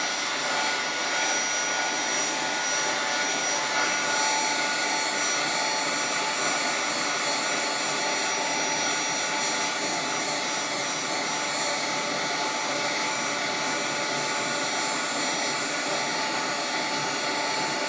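Heat gun blowing over handmade artist trading coins, a steady, loud broadband rush of air that holds unchanged from start to finish, with no talking.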